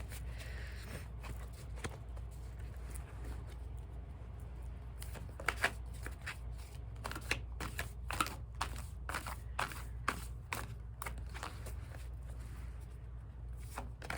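A deck of cards is shuffled close up, first as soft rustling, then as a run of crisp riffle snaps and slaps over a low steady background hum.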